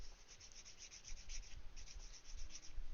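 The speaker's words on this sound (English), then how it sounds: "It needs a little bit of sanding though." Sanding a plastic Gunpla model part by hand, a close, steady scratchy rubbing in short repeated strokes, heard alone with no talking.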